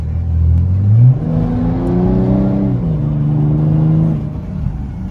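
A Ferrari 488 engine revs up loudly and close, its pitch rising and shifting through gears, then settling into a steady roar.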